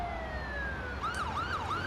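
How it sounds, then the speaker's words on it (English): An ambulance siren in an emergency medical services video game shifts from a slow falling wail to a fast rising-falling yelp, loud and steady with engine hum beneath, no voices. "we're going to upgrade lights and sirens now"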